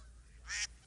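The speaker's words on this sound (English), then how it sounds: "ducks." Geese or ducks give a single brief honking call near an airfield, clear and fairly close over a quiet background.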